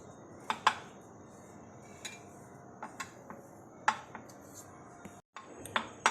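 A utensil clinks and scrapes against a bowl while sweet stuffing is mixed with sugar and cardamom, giving sharp, irregular metallic ticks and taps at close range over quiet background.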